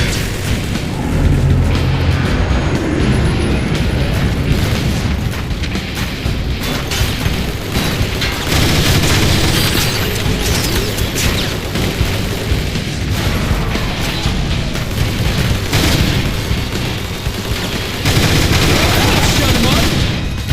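Missile blasts and gunfire crash continuously in the Transformers: War for Cybertron video game, dense booms and rapid bursts layered loudly with game voices calling out.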